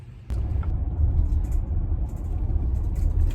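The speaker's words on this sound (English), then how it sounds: "So now we're driving to the tournament with Michelle" Inside a car driving to a tennis tournament, a steady, fairly loud low road rumble and engine hum starts abruptly and continues without talk.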